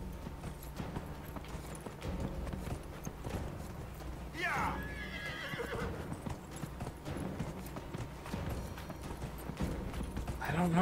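Horse hooves gallop in a steady clip-clop during a horse race in the video game Dragon Age: Inquisition, with one clear neigh rising midway over the continuous pounding rhythm.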